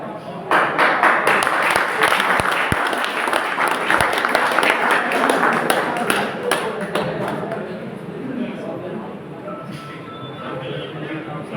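Audience applause fills a skill convocation ceremony with dense, sustained clapping from a crowd that eases slightly toward the end.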